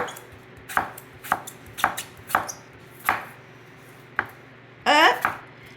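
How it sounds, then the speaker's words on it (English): A knife chops an apple with its peel left on against a cutting board, giving about eight crisp, close thuds at an uneven pace, followed by a brief scraping clatter. "so you're just going to chop your apple"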